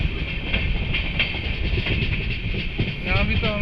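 A long-distance Indian passenger train slowing on its rails, with a steady rumble, rhythmic wheel clicks and high squealing tones near the end, heard from on board.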